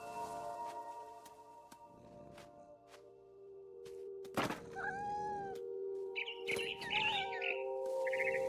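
A cat meows in the video game What Remains of Edith Finch, with a few short meows and chirping bird calls near the end over a faint steady hum and soft game sounds.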